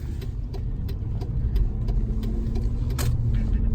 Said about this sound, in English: We got a 300 horsepower North Star under the hood of this.